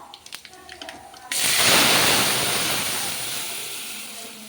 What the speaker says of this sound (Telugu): మనం ఇప్పుడు పప్పు పోసుకుందామండి పప్పు పోసుకొని రెండు నిమిషాలు ఉడకనిద్దాం